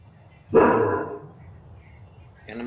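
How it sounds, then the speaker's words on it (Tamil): A dog close to the house lets out one loud bark that trails off, and a second bark starts just as the clip ends, with faint room noise between them. "வீட்டுக்குள்ளே நாய் வந்துருச்சா?"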